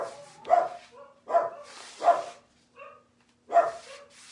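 Dog barking indoors during a craft session, four or five sharp, moderately loud barks spaced unevenly, with a softer yip between them and quiet pauses, no talk.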